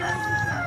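A fighting rooster crows in a long, strained call outdoors, close and loud against a background of other fowl clucking.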